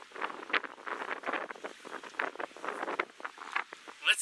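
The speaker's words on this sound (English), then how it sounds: "Awfully, awfully windy." Strong gusts buffet the microphone on a small fishing boat out on the water, a rough, continuous roar of wind noise with uneven surges throughout.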